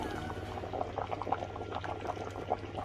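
Washed basmati rice being added to a pot of boiling water for Jamaican rice and peas, a steady bubbling and sloshing boil with small splashes, close and continuous, no talking.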